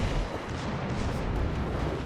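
A warship in a video game fires a gun salvo, one heavy, dense roaring blast that stays loud and rumbling for about two seconds, close and alone.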